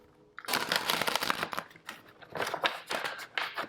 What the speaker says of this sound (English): Card doesn't want to shuffle.